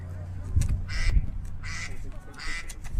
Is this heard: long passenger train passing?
no